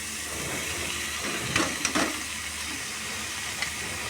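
Cabbage sizzling with spices in a hot pan gives a steady, moderate hiss, broken by a few brief scraping clatters of stirring in the middle.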